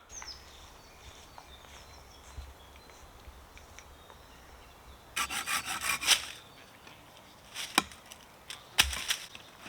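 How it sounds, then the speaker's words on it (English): Tandem bow drill friction fire lighting on wood in an ancient woodland: quiet outdoor ambience gives way to bursts of rapid rasping, rubbing strokes, followed by a few shorter scraping passes, close and moderately loud. "We're going to do a tandem bow drill today."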